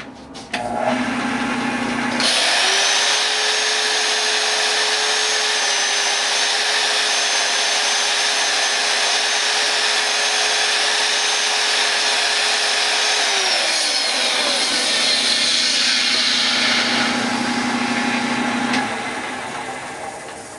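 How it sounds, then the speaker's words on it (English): A spinning wooden donut-shaped bowl is sanded with finer-grit sandpaper. A continuous loud power-tool whine runs for about fifteen seconds with a steady rubbing rasp, then spins down, with a lower motor hum at either end. "little finer sandpaper on there. Do that again, and then we'll sand it by hand."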